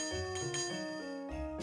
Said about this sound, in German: Jetzt probieren wir mal das Kackglöckchen aus.